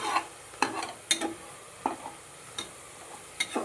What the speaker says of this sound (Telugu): కొంచెం పచ్చివాసన పోయే తిప్పాలి, కొంచెం బాగా దగ్గర పడాలండి